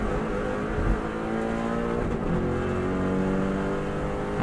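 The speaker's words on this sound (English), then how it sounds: "Now we're flat out, car bounces across the road." A Subaru Impreza runs flat out around the TT course, its engine howling in a steady, loud drone with shifting pitch as it holds high revs, close and continuous with no talking.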